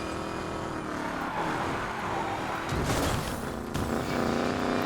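The engine of a Mercury Cougar race build in the Need for Speed Payback video game drones steadily with rising and falling revs, loud and continuous, with no speech over it.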